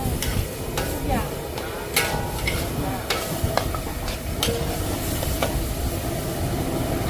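A Thai spicy stir-fry (phat phet) is tossed in a wok at a rice-and-curry shop: steady loud sizzling with repeated sharp metallic scrapes and clanks of the spatula against the pan, close by and with no talk.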